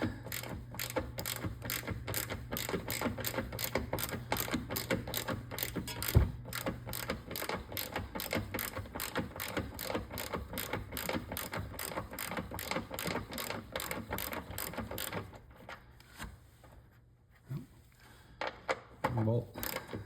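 Rapid ratcheting clicks from a wrench loosening the 12 mm engine ground strap bolt on a Kia Soul, a steady close run of dense clicks that thins out near the end with a couple of louder knocks.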